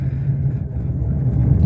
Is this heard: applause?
no